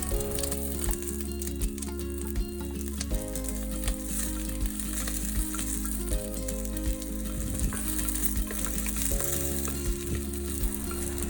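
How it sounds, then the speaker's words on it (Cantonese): Scallion whites and leeks stir-fry in hot oil in a pot, a loud continuous sizzle with occasional stirring, heard close and without speech beneath background music with a steady pulse. "然後先至放入蔥白同埋大蔥"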